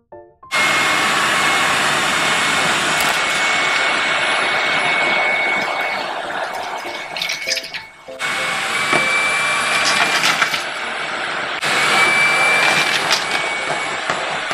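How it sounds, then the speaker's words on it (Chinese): Three two-in-one vacuum-mop cleaners suck up a pile of human hair and cat fur, each a loud, steady motor whine in three runs separated by brief pauses, with faint voices underneath. "我哋睇下呢三部吸尘机嘅吸力如何啦"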